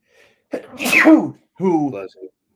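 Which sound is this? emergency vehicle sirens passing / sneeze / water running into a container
sneeze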